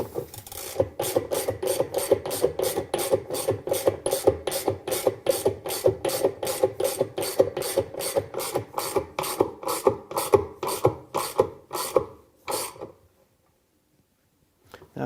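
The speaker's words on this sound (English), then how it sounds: "just put your ratchet handle on" A ratchet wrench tightens the agitator bolt on a Whirlpool washing machine, giving a long, steady run of quick, rasping clicks in even rhythm for about twelve seconds before stopping, close and loud with no talk.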